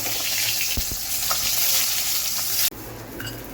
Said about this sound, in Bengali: তো হয়ে গেল মাছ ভাজা একেবারে মুচমুচে।